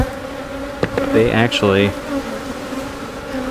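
Honeybee colony buzzing steadily throughout as the hive is smoked, a continuous insect drone with a brief spoken phrase over it midway.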